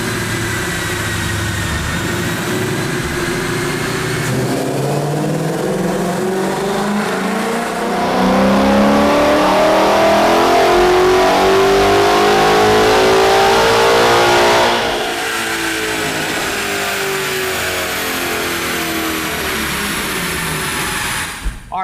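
A 2011 Mustang GT with the Gen 1 Coyote V8 on a dyno, running a loud sustained wide-open pull: the engine note climbs steadily in pitch, holds at full roar near the top, then lets off into a lower, fading idle.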